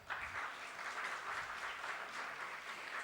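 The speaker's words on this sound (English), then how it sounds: "I request another round of applause for all the speakers" An audience at a G20 University Connect event applauds the speakers, a quiet, distant wash of many hands clapping that stays even throughout.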